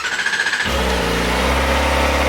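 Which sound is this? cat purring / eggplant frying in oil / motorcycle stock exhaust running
motorcycle stock exhaust running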